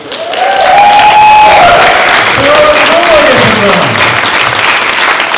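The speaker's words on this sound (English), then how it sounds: "And you're cheering again." A crowd at a cosplay contest cheers and applauds loudly and continuously, with whoops and shouts rising over dense clapping from start to finish.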